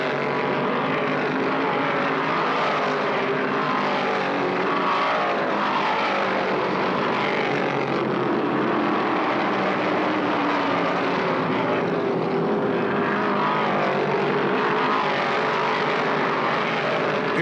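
Stock cars race in a pack around Martinsville in the 1972 Virginia 500, a dense, steady engine roar that holds at full loudness for the whole stretch with no talk.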